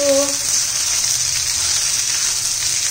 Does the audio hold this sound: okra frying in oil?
yes